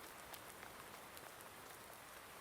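Steady, even rain falls in the farming game Farming Simulator 19, a soft continuous hiss of drops on surfaces with no talking.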